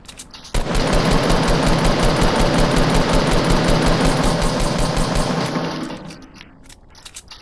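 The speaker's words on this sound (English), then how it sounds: "Is that you shooting those rockets?" Rapid rocket fire in Fortnite, a long, loud, steady burst of evenly spaced launches that runs several seconds, then tails off and fades out.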